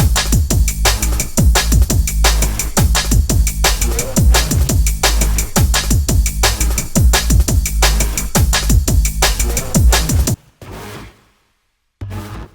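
A loud, dense beat built from vocal one-shots heavily distorted with the Ruina plugin, with punchy repeated hits and a steady rhythm for about ten seconds before it cuts to near silence with a brief gritty tail.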